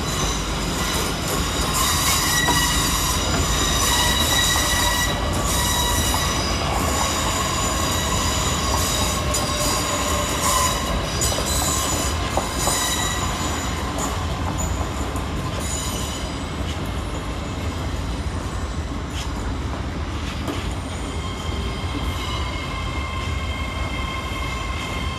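Great Western Railway Class 800 trains at London Paddington station, a continuous loud rumble of rolling stock with wheel squeal and clatter filling the station throughout, no talk.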